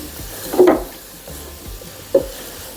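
A spoon stirs cassava mallum in a pan over a gentle flame, giving two distinct scraping strokes about a second and a half apart over a soft background sizzle. No one speaks.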